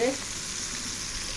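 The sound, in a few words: flour-coated bassaria fish frying in oil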